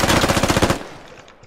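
A rapid burst of automatic gunfire in Squad rattles loudly for under a second, then cuts off and leaves a fading echo tail.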